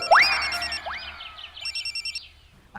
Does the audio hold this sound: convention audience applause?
no